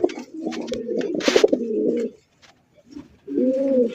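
Blue pigeon cooing nearby: a run of low, throaty rolling coos, a short pause, then another coo phrase, loud and alone.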